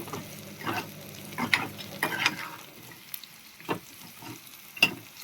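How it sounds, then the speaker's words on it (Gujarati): Onions are stirred and roasted in a pan of hot oil for jeera rice, a low sizzle punctuated by irregular spatula scrapes and taps against the pan, close and fairly quiet. "આપણે સતત હલાવતા રહી અને ડુંગળીને શેકી લઈશું"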